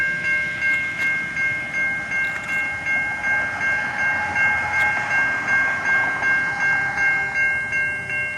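A stopped Canadian National ethanol freight train sits at a level crossing, with a steady tonal whine and low idling rumble holding throughout, broken by faint clanks and clicks, with no voices.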